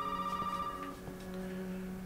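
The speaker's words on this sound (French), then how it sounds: "Le téléphone." A telephone rings in the video game Resident Evil 7, a steady electronic tone held throughout, fairly quiet and alone.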